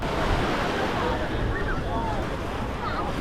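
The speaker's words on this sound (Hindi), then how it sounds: "समंदर की लहरें आपको यहाँ पे ये आवाज़ नज़र आ रही होगी" Sea waves wash onto a beach on the Marmara Sea at Büyükçekmece, Istanbul, a continuous broad rushing surf with wind noise on the microphone.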